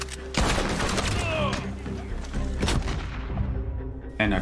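Gunfire in the Western video game Red Dead Online, several loud sharp shots in quick bursts with booming tails, close and layered over game ambience, with brief voice sounds mixed in.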